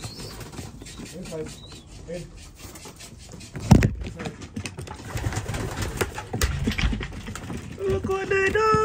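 A racing pigeon coos and stirs close by during feeding, its cooing low and soft under scraping and rubbing against wood. A person talks briefly.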